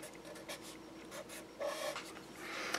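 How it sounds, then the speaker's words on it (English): A pen or marker writing out the relativistic energy equation: a run of soft, scratchy strokes in short bursts with brief pauses between them, close and fairly quiet. "Maybe I'll write that just one more time."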